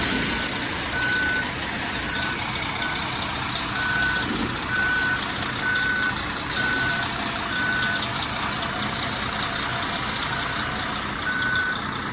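A concrete truck's reversing alarm beeps in a steady repeating pattern over a low engine rumble and broad background noise, with a gap mid-sequence, at a snowy, freezing construction site.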